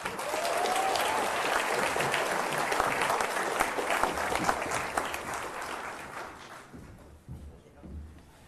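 Sustained applause from a large crowd at a service award ceremony, steady and loud for several seconds before thinning out and fading near the end.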